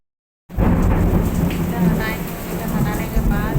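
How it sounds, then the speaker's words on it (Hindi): A heavy downpour beats steadily alongside rolling thunder, loud and close, a dense continuous roar of rain on surfaces with deep rumbles running underneath throughout. "बारिश आज काफ़ी हो रही है"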